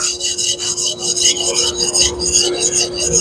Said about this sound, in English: I'll continue to thin it down on the belt